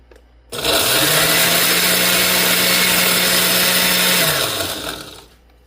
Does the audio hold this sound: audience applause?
no